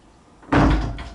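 An apartment door swings shut with a single solid thud, loud and close, followed by a brief rattling settle, after a quiet room-tone lead-in.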